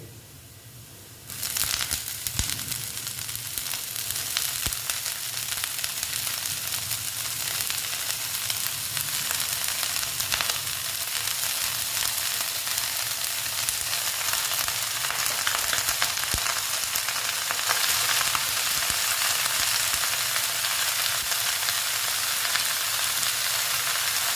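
Data shak greens sizzle with onion in a hot pan, a loud steady hiss that starts abruptly and carries on unbroken, with occasional stirring scrapes and no voices.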